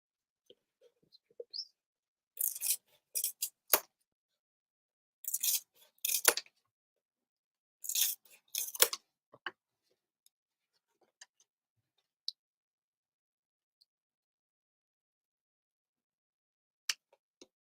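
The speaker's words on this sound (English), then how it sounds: "And we'll get the bigger scissors. Ooh, and we're gonna cut out." Large scissors snip through black crafting material in several quick bursts of crisp, close cuts, separated by pauses and a few faint ticks.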